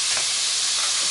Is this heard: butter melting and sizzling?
yes